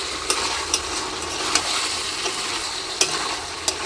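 Chicken for chicken kasha is stirred in a pan as it cooks down in its own released juices, giving a steady close sizzle broken by sharp spatula scrapes roughly every second.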